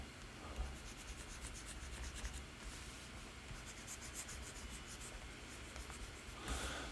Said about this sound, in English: I'm going to erase a few things here.